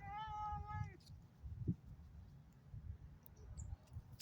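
A cat lets out a single clear, drawn-out meow at the start, followed by quiet outdoor background with a few faint ticks and no voices.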